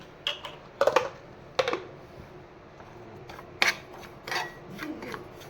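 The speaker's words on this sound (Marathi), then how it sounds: "मस्तपैकी आपल्याला हा रवा मंद गॅसवर भाजून घ्यायचा आहे छानपैकी।" Semolina (rava) roasts over a low flame with dry fruits nearby, stirred in a pan in sparse, quiet scrapes and rasps that come in short irregular bursts with pauses between.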